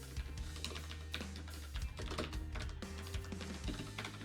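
Rapid, irregular keystrokes on a computer keyboard during programming work on a makefile, close and steady for several seconds with brief pauses and a low background hum, no talking.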